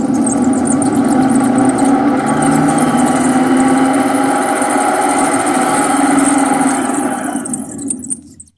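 A home furnace motor runs with a steady, loud mechanical drone and hum for several seconds, then winds down and cuts off near the end.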